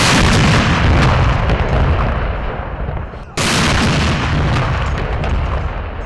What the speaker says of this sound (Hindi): लाहौर, कराची, पेशावर और कोयटा में 21 तोपों की सलामी से दिन का आगाज किया गया।